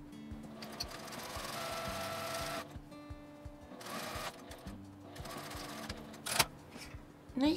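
A sewing machine stitches the seam of a doll's kimono in quick mechanical bursts, whirring for a few seconds, stopping, then starting again, fairly quiet and close, with small clicks between runs.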